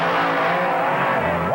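Two drag racing cars at the 1979 NHRA World Championship Series event in Edmonton launch hard from the start line, a loud dense engine roar that rises in pitch near the end, with faint crowd noise underneath.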